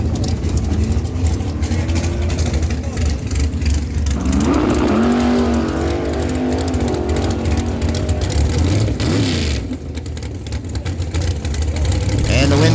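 A 1995 Camaro and a dragster race down a drag strip at an NHRA day, with engines roaring steadily and loudly throughout and an announcer talking over the racket.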